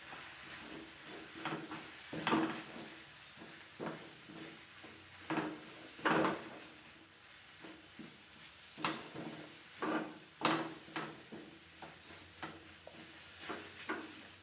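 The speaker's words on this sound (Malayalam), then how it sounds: "നല്ലോണം ഒന്ന് ഇളക്കി കൊടുക്കാം." Beef curry masala with coriander and turmeric powder stirred in a hot pan, giving repeated scraping strokes at an irregular pace over a soft steady sizzle, fairly close and quiet.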